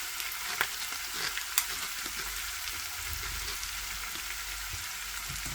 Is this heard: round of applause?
no